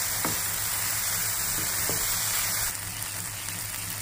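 Three chopped green chillies hit hot oil in a frying pan, giving a steady, moderate hiss of sizzling with a few soft clinks, heard alone without talk.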